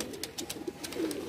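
Flying pigeons bred from golden bajra stock coo faintly in brief, low murmurs, with a few soft bird calls over a quiet background.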